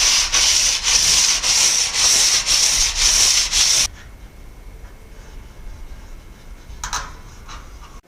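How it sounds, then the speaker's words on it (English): A piece is rubbed back and forth on sandpaper laid on the floor while building a tiny house roof: loud, close, rhythmic rasping strokes for about four seconds, then it stops and a few faint taps follow. "So I'll put on some sandpaper on the floor and I'll sand it smooth."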